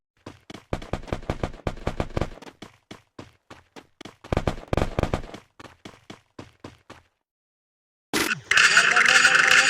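Gunfire in the Free Fire mobile battle game comes as sharp, loud bursts of rapid shots with short pauses between them, followed by a brief silence and then a dense burst of game sound.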